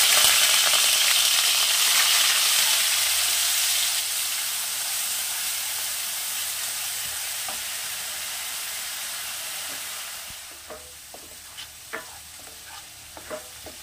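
Onion paste hits hot mustard oil with a loud, close sizzle that gradually calms, then a few spoon knocks and stirs come through the quieter frying.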